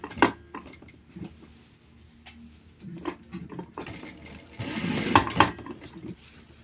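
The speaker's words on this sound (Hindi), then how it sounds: "फिर इस तरह ये सीधी सिलाई आपने पैर की लगा दी" A sewing machine stitches a straight seam on trouser fabric in short intermittent runs of close mechanical whirring, with a longer, louder burst near the end.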